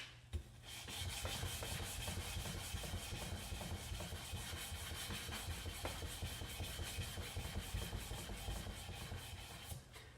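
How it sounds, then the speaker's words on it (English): Steady rasping rub of sandpaper polishing knife steel lubricated with WD-40 on a belt, a continuous close, fairly quiet scraping texture throughout with no talking. "I'll just start grinding, or polishing"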